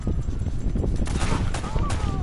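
Gunfire at shooting practice, with a dense, rapid burst of loud shots running continuously, mixed with voices calling out nearby.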